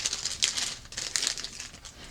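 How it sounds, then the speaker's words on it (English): A plastic bag crinkling as an Infinity Stone toy is pulled out of it, a close, continuous rustle with several sharper crackles and no talk. "So we've got the Infinity Stone here in its plastic bag. Take that out."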